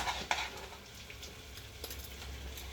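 Chopped Roma tomatoes go into a hot pan of veggie herb blend, giving a soft steady sizzle with a few scattered clinks and stirring scrapes, no talking.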